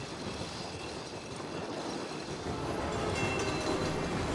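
A mine cart train in the It Takes Two video game rolls along, a steady rumbling clatter of wheels on track that grows slightly louder as it approaches, with no talking over it.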